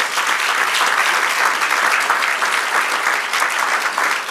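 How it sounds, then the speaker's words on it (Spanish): A Spanish-speaking church congregation applauding for the Lord, a loud, full, sustained round of clapping that fills the space without pause. "¿Por qué no le damos un aplauso al Señor?"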